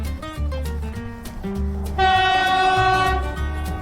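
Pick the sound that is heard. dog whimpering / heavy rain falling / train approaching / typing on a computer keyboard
train approaching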